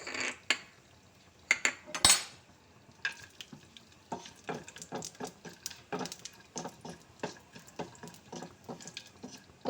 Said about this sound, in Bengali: এরপর আমি এখানে কাজুটাকে ভেজে নেব।